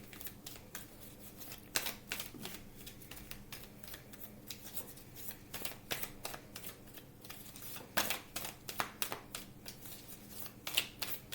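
Tarot cards being shuffled and dealt at close range, a stream of crisp, quiet flicks and snaps with brief riffling bursts in an uneven rhythm, and no voices.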